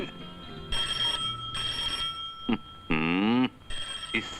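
An old landline telephone bell rings in repeated bursts with pauses between them, clear and fairly close indoors, alone without speech.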